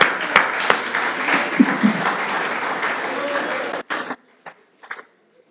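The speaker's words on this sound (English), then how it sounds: "They deserve a round of applause" Audience at a high school football awards banquet applauds for the coaches' spouses, a full dense burst of clapping with a few sharp near claps that stops abruptly near four seconds, followed by a few scattered claps.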